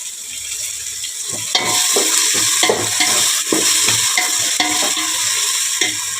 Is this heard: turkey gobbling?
no